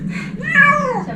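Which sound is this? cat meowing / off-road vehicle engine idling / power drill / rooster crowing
cat meowing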